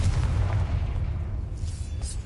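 A Confringo blasting spell explodes in Hogwarts Legacy, a deep rumbling boom that holds steady at first and then slowly fades with the room tone.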